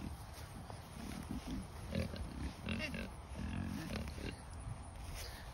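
Pigs grunting and snuffling repeatedly up close, a steady cluster of low grunts throughout with faint outdoor background noise.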